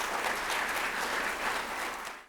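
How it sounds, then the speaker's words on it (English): An audience gives a speaker a big round of applause at a talk on cultural roots and nation building: dense, steady clapping from many hands fills the whole stretch, then fades slightly at the end. "A big round of applause for him."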